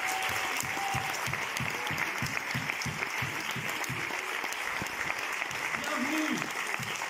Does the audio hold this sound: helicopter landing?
no